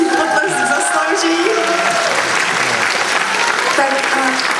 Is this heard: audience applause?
yes